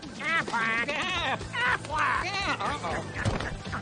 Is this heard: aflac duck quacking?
yes